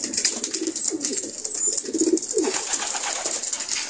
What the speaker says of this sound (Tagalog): may umuwi pa rin sa atin na ibon, yung Dark Grizzle na yan